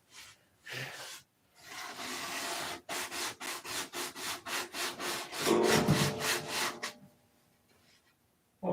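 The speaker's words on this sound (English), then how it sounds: "That's my 100-mile-an-hour tape sounds like releasing." Strong duct tape, used to hold a hose in place over still-damp plaster, releases and peels away in a rapid series of ripping pulls. The pulls are loud and close, with no talk.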